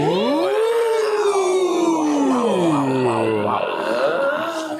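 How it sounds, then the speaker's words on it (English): Band members doing vocal warm-up exercises together, sliding siren-like glides and wavering howls from several voices at once, loud and close. "What kind of vocal warm-up exercises do you do?"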